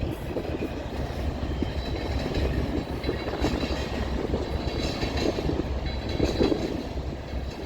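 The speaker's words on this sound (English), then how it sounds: "BNSF is holding just behind me, waiting for their turn to go across the diamond." A freight train rumbles steadily across a railroad diamond, with a continuous heavy roar, faint wheel clatter and occasional squeal, while a BNSF freight train waits nearby, loud and unbroken throughout.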